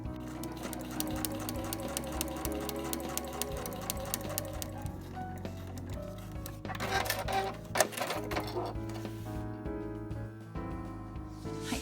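A household sewing machine stitches a large piece of nylon fabric for a tote bag, its rapid needle chatter running in close, even bursts with brief pauses and a few louder clacks.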